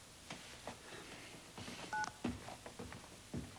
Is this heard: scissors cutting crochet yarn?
no